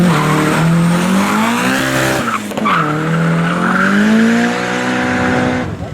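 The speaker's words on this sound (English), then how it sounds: "Now this Nissan champ wants to make some noise." A loud Nissan race car engine wails and climbs through the revs, its pitch dipping briefly midway, while tires squeal and skid underneath.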